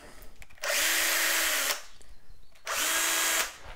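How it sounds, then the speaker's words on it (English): Power drill boring a hole for a tank adapter in a DIY mash lauter tun, two loud sustained whirring bursts separated by a short pause, close up with no speech. "You need to drill a hole for the tank adapter."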